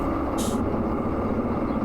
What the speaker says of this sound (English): Brakes are releasing.